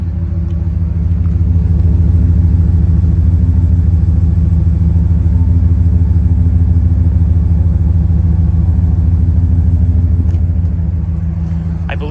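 Ford 7.3-litre gas V8 idling through its exhaust on a Thor Freedom Elite 28HE camper's chassis-cab, a steady, deep, loud rumble held throughout with a slight swell in the first seconds, no talking.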